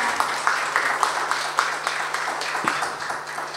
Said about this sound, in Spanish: les pido un gran aplauso para él desde ya